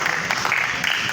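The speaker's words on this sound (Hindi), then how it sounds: "तालियां बजा दे ज़रा" Applause rings out at a pigeon flying club prize-giving ceremony in Lahore, a brief, dense patter of clapping hands that carries on steadily throughout.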